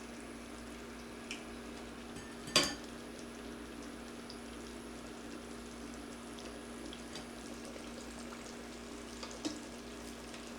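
Ackee and saltfish stuffed dumplings frying in hot peanut oil, a steady low sizzle and bubbling throughout with one sharp splatter early on and a few faint pops.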